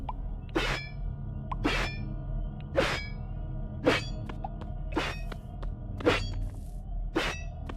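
Sharp metallic clangs of a sword or knife ring out in a video game, about seven separate bright strikes spaced roughly a second apart, each with a short ringing decay over a low background hum.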